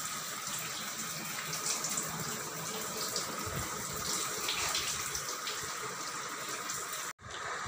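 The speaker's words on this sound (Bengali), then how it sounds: "ভালো করে দেখো জলটা পড়ছে" Water pours continuously during a bath, a steady splashing gush like a running tap. It holds at an even level until a brief cutoff near the end.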